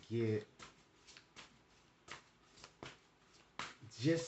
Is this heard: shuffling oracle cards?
yes